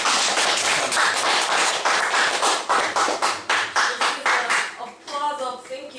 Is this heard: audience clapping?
yes